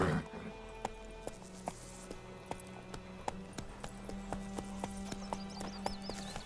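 Geralt's horse Roach gallops in The Witcher 3, hoofbeats striking in a quick, regular rhythm over a low rumbling game backdrop, moderately loud with sharper impacts punctuating the run and no talking.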